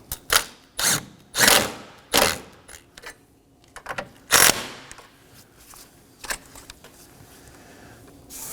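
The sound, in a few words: tightening nuts while installing Nissan Maxima battery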